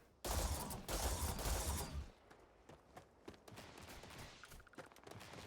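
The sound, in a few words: gunfire in Starfield video game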